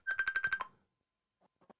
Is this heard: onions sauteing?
no